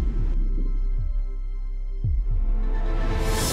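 A loud heartbeat sound effect thumps in slow, heavy pairs beneath a sustained droning tone, with no one speaking, growing into a brighter wash toward the end.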